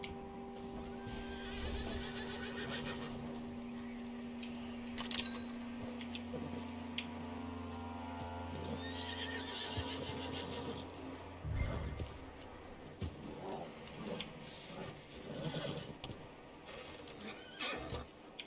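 A horse neighs repeatedly in a video game among clip-clopping hooves and other game sounds, with a low hum underneath and a voice now and then.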